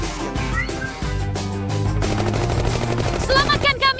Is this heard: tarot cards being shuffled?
no